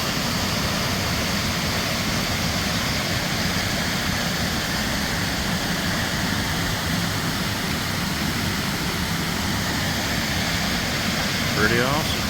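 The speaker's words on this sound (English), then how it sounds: "There's a waterfall" A waterfall at Three Forks in Rabun County pours in a steady, loud, broadband rush that fills the whole stretch without pause.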